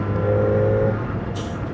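A Kawasaki ZX-4RR 400cc sport motorcycle cruises in sixth gear on an open road, a loud, steady, close engine drone with constant wind noise throughout.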